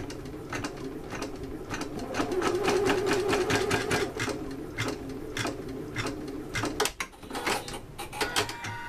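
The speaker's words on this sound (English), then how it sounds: "takes 2 minutes per stitching, so that's not long at all to do some stipple quilting" Quilting machine stitching a stipple quilting pattern, a steady rapid mechanical ticking and whirring close by that runs without a break, with one brief dip in the rhythm near the end.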